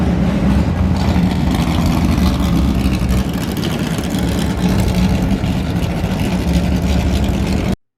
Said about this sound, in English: Next clip is this really cool old GT40 kit.